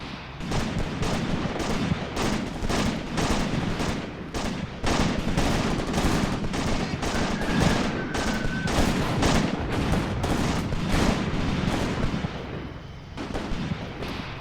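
Rapid, continuous artillery barrage pounding trenches in a WW2 battle game, dozens of sharp, loud impacts in quick succession with dense rumbling between them, easing slightly near the end.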